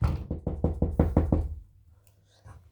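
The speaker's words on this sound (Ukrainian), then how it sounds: "як нас поліція стукає" A quick burst of about eight firm knocks on a door, loud and close, followed by quiet and a faint thump.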